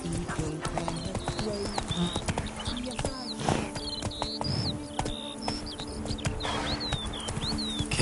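Hooves of Roach, Geralt's horse in The Witcher 3 video game, clip-clop in a steady walking rhythm close by, with chirping birds and a faint background score around them.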